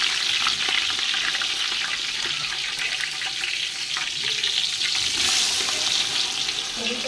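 Mustard seeds and cumin sizzle in hot oil with a dense, crackling hiss and scattered pops, close and steady throughout with no talk.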